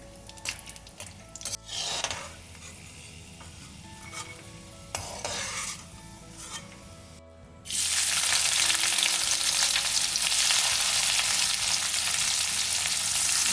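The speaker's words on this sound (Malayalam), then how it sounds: "ഇത് ഉണക്കമീൻ നന്നായിട്ട് ഫ്രൈ ആയിട്ടുണ്ട്" Dried fish fries in oil in a pan for Malaysian nasi lemak. At first there is a moderate sizzle with scraping and stirring of a utensil against the pan, then a loud, dense, continuous frying hiss takes over for the second half.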